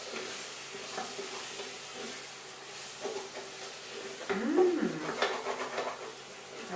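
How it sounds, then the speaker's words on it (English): Jackfruit frying in curry paste in a pan, a soft sizzle with scraping stirring strokes of a utensil, fairly quiet and close. "Let's fry the jackfruit in the paste."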